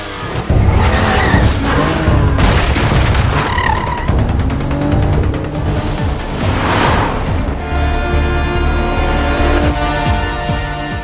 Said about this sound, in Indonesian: Hingga akhirnya mobil mereka tabrakan.